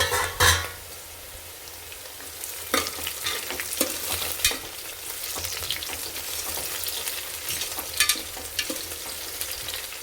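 Onions and green chillies fry in a pan for a Telugu ridge gourd dal, giving a steady sizzle with occasional stirring scrapes and clinks throughout, fairly close and with no talk.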